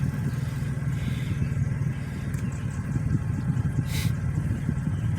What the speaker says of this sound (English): Now we'll let this car come down.